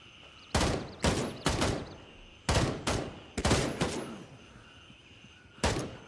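Gunfire in the video game Gray Zone Warfare: a series of loud, sharp shots in quick clusters, each with a long echoing tail, close and prominent with no talking.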